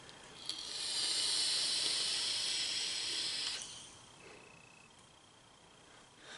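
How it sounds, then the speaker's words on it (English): A long, steady airy hiss of vapor exhaled from a Crown 3 sub-ohm tank, lasting about three seconds close to the mic before fading into quiet room tone. "let's have a vape, and I'll show you how it does"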